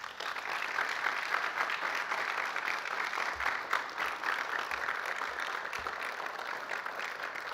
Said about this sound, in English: I'd like for you to give a big round of applause to the people that supported you through this process.